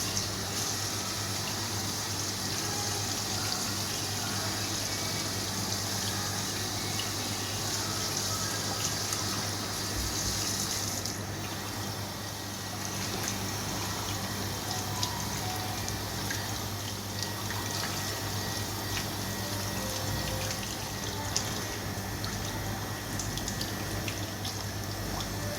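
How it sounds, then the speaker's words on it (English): Cleaned, gutted fish being washed thoroughly in water before salting for dried fish, with steady running and splashing water and dripping throughout, fairly close and continuous with no talk. "the fishes must be washed thoroughly in preparation for salting"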